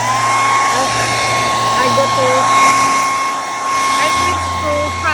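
A hair dryer blasts hot air over a bed being treated for bed bugs, a loud continuous whine with a steady tone and slight shifts in pitch, while a voice speaks briefly over it.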